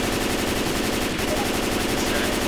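Gunfire in the video game Left 4 Dead 2 on a custom military installation map, with continuous rapid automatic fire that stays loud and dense from start to finish.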